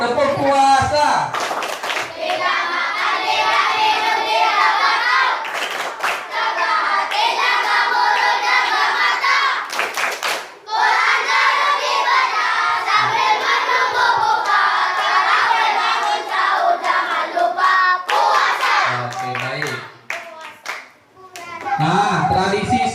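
A group of children keeps up a rhythmic clapping chant for the Ramadan fasting before Eid al-Fitr, their voices and claps loud and steady with a few brief pauses, and a short shout near the end.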